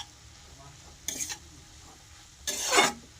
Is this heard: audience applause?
no